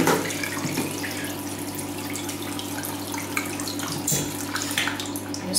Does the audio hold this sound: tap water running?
yes